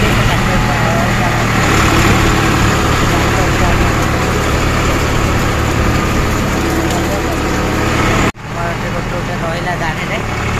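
A tractor engine runs steadily while ploughing a rural village field, a loud continuous rumble that holds throughout with a brief dip near the end, and people talk over it.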